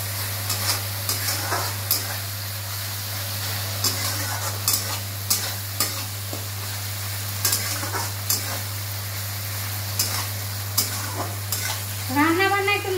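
Curry is stir-fried in oil (kosha) with a steady sizzle, while a spatula scrapes and knocks against the pan in a regular rhythm over a constant low hum.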